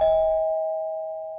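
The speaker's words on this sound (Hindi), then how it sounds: "कि डोरबेल बजी।" A doorbell in a flat rings once, a single clear electronic tone that rings out and slowly fades, with nothing else around it.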